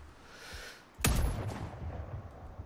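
A single sharp sniper rifle shot fired in the video game Sniper Ghost Warrior Contracts, a loud close crack after a quiet lead-in, followed by a rolling echo that slowly fades.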